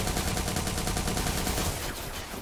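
Sustained rapid gunfire in the video game Watch Dogs 2, a dense continuous burst of shots that stays loud throughout and tapers slightly near the end.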